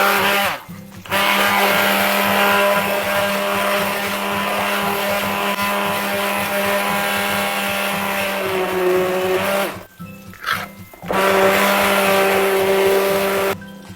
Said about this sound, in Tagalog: So I'm just gonna turn off the fire and blend it.